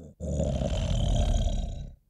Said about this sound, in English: This is a large beast from my sample collection.